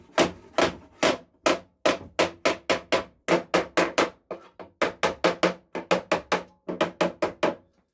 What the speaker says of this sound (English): Take two hammers, come out from both sides.